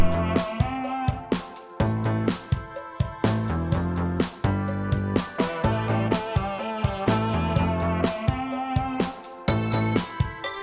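Punchy synthesizer chords with an added sawtooth oscillator pulse in a steady rhythmic pattern with a buzzy, bright edge, loud and upfront with no voices.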